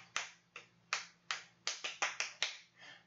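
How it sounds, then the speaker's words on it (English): Rhythmic clapping in a group music lesson, about ten sharp, crisp claps in a steady pattern, some pairs closer together, near and clear against quiet background with no talking. "I saw some very accurate rhythmic clapping there."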